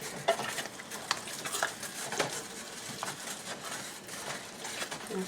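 Ground beef stroganoff in a creamy sauce being stirred in a pan, with soft repeated scraping and a low bubbling simmer, fairly quiet and close.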